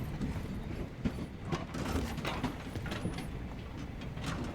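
Train moving in a video game, with a busy mechanical rumble and rapid clattering of wheels and parts, sustained and fairly loud throughout.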